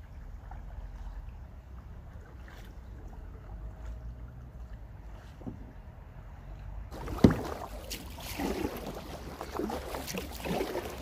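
A kayak out on the water: paddle splashes and rippling water come in sharply partway through, after a quieter stretch of faint outdoor ambience, with a single loud knock or thump just as the splashing starts.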